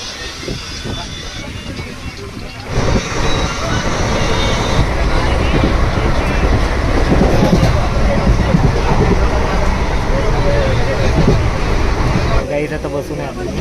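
A crowded general compartment of an Indian passenger train rumbles along with a loud, continuous roar of wheels and carriage noise, while voices murmur in the background.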